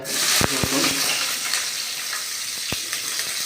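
Onions and green chilies frying in hot oil for homemade dal, a steady close sizzle with a few sharp clicks of stirring or utensil taps near the start and again later, no talking.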